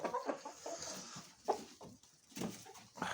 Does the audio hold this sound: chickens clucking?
yes